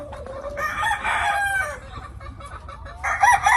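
Among caged gamefowl, a Kearney White Hackle rooster gives a full crow near at hand, and a second crow begins just as the sound ends.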